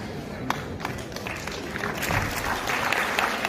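Continuous applause from an audience at a Digamber Jain Mahasabha ceremony, a dense, steady patter of many hands that holds at an even moderate level, with faint murmuring voices underneath.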